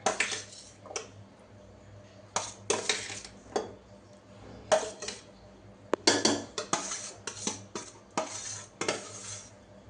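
Chicken and fried onions going into a biryani pot with ghee, heard as a series of clinking utensil scrapes and metallic taps against the pot, irregular and close, over a quiet background.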